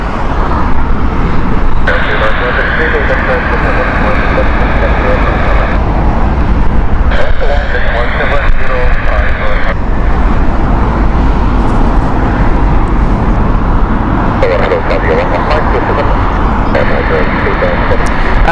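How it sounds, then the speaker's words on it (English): An Airbus A319 inbound from Geneva approaching Heathrow, a loud, continuous jet engine roar with a steady drone and shifting tonal whines, close and sustained the whole time. "Geneva flight, Airbus A319 inbound next."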